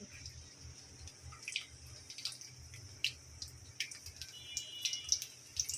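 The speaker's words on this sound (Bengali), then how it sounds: "প্রথমে দিয়ে দেবো বেশ কিছু জলটা" Water is poured into a cooking pot as bottle gourd greens are prepared, giving light dripping and splashing close by, with scattered small drops over a faint background.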